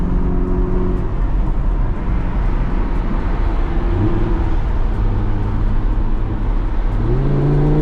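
An Aston Martin cruising along a road, its engine droning steadily and loudly close by throughout with shifting tonal hum as it drives, no voices present.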